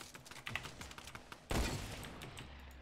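A single loud gunshot cracks out halfway through a Fortnite match, preceded by soft clicking and followed by a lingering noisy tail.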